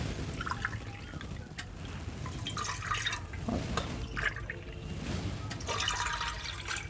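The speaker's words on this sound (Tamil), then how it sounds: "இதில் தண்ணியை ஊற்றிக்கலாம்." Water splashes and trickles into a metal pressure cooker in uneven bursts, fairly quiet and close, with no talking.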